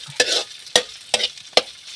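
Ingredients are fried in hot cooking oil for a Filipino home dish, giving a soft steady sizzle broken by four sharp scraping stirs at even intervals, close and without talk.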